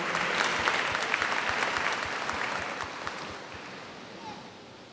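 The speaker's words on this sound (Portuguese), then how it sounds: "Uma salva de palmas, por favor." A crowd applauds at a solemn session honouring the King of Nigeria, dense clapping that is loud at first and fades gradually over a few seconds.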